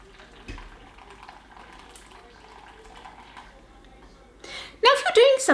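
Green tea strained through a stainless steel strainer and coffee filter for soap making: a quiet, hissy background, then a louder splashing pour of liquid in the final second or so.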